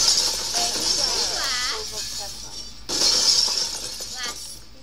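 Glass shatters in the Happy Wheels game as an old man character crashes through it, two bright crashing bursts over background game noise while a voice talks on and off.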